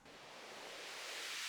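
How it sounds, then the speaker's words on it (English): A white noise riser for a tech house drop: a broad hiss that swells steadily louder and brighter over a second and a half, alone and without voices. "I've also added this white noise riser from before."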